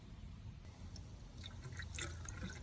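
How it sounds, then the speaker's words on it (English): Vinegar poured into an air conditioner's drain line, making faint, sparse trickling and dripping over a steady low background hum, growing slightly busier toward the end. "Now I can pour vinegar into the drain line."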